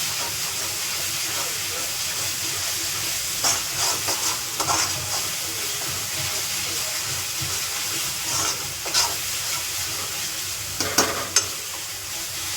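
Green chillies and curry leaves hit hot oil in a pan for chole, giving a loud hissing sizzle with occasional crackles and stirring scrapes, close up and steady.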